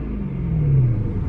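A car engine revs loudly nearby, a deep rumbling surge that rises and holds before easing off, with trucks idling around a parked stock white BMW M3.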